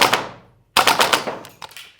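An AK Vityaz 9mm airsoft gas blowback rifle fires a short full-auto burst of rapid sharp cracks, falls silent briefly, then fires a second longer burst that trails into a few scattered shots, loud and close with no talking.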